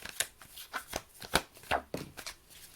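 Tarot cards shuffled by hand in a series of quick, crisp riffling bursts and soft slaps, close and fairly quiet, with no talking over them.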